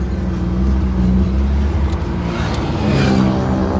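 A BMW E36 323i with a bypassed exhaust, heard from inside the car with four occupants, gives a steady loud engine drone with a rising rev swell near the end.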